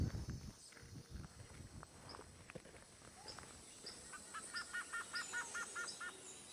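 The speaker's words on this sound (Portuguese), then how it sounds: "Sem querer, acabamos acordando os passarinhos com a luz das nossas lanternas." Birds chirp in a rainforest at dawn, woken by flashlight beams, with a rapid repeated call sounding close and other faint calls farther off, over soft footsteps and rustling in mud.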